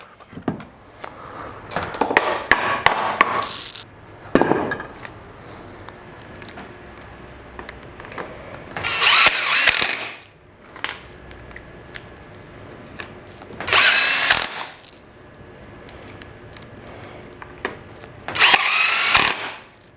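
Power drill driving screws into a PVC gate post insert, in several loud bursts of a few seconds each separated by quieter handling noise.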